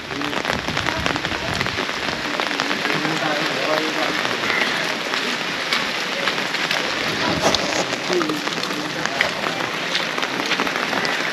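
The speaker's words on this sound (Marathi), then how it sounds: "पाऊस सकाळपासून जास्त पाऊस आहे" Heavy rain pours steadily on surfaces outdoors in a village, a dense, continuous wash of patter that stays loud and even throughout.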